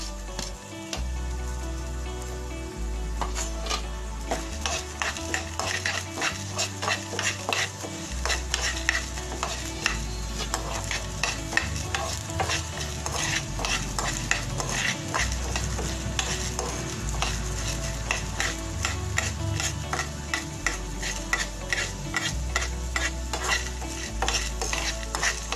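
Coriander seeds and black peppercorns dry-roasted in a pan for rasam masala, stirred continuously with a spatula, giving close rhythmic scraping and rattling over a faint sizzle and a low steady hum, with no voices.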